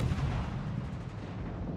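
Naval battle in World of Warships with shells and airstrikes landing: a dense, continuous low rumble of heavy artillery fire and explosions, loud and steady throughout, no voices.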